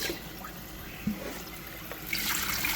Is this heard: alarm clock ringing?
no